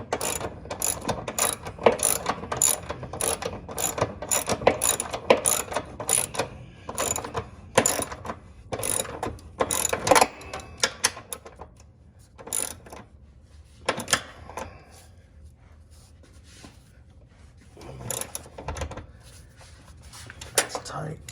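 Hand ratchet clicking in bursts as bolts on ZroadZ rock sliders are tightened, rapid pawl clicks in several runs separated by pauses, close and fairly loud, with someone talking between them.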